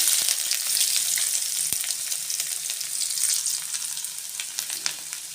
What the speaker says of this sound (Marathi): आपलं तेल गरम झालं याच्यामध्ये आता लसूण लसूणबरोबर आलं त्यामध्ये कांदा पण घालायचा